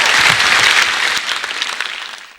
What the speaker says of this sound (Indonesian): Kita berikan tepuk tangan untuk Lian.